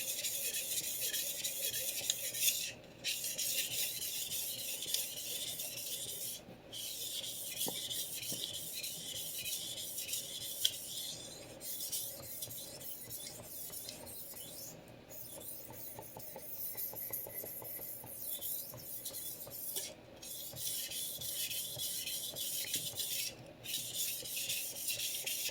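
A vintage Clyde Cutlery chef knife is sharpened with long, steady scraping strokes that repeat at a regular pace, each stroke separated by a brief pause, close and fairly quiet, with no speech.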